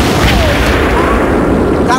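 A frag grenade detonates in a military shooter game, a loud booming blast with rumbling low end that carries through the whole moment, with voices talking over it.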